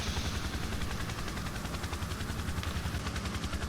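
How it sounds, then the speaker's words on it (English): A Firehawk helicopter with a Bambi bucket dropping water in a firefighting video game: steady, dense rotor chop and engine roar, loud and continuous throughout. "And here's an example of a drop with the Bambi bucket on the Firehawk."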